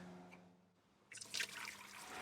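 Water dripping and trickling from the supposedly dry clutch housing of an old Caterpillar bulldozer, a faint soft patter that turns into a louder, busier splashing trickle partway through.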